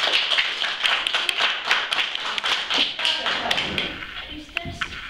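Audience applause at a children's fairy-tale carnival: a burst of close, crisp hand claps that thins out toward the end, with some faint voices underneath.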